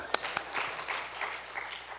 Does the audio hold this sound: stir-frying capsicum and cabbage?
no